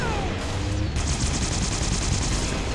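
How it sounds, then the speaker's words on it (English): Rapid machine gun fire from the video game Halo: Reach, a loud, dense stream of shots that kicks in after a moment and keeps hammering steadily to the end. "I got killed by a machine gun."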